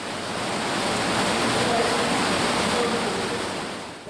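Water rushes steadily through a damp underground cave streamway in Speedwell Caverns, a dense, loud, unbroken roar that fills the space with no pauses.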